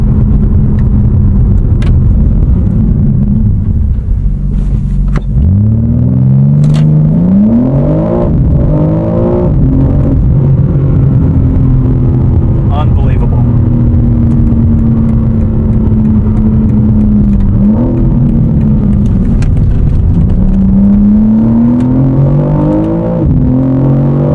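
A BMW M4 CS accelerates hard, its engine climbing loudly through several gears with sharp shifts between the rising pulls, a continuous close roar with no talking.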